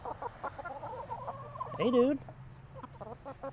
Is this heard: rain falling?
no